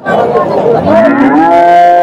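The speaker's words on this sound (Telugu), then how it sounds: "హోలిస్టన్ దూడ." A Holstein calf at a cattle market moos loudly and close by, one long drawn-out call that rises in pitch, with faint crowd chatter behind it.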